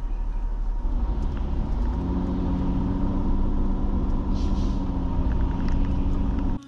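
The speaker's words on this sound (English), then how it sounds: "The road is totally blocked right now with a tow truck that's grabbing a car." On a blocked road, a tow truck loads a car onto its flatbed, giving a steady, loud, close engine rumble with a droning hum that holds throughout and cuts off at the end, with no talking.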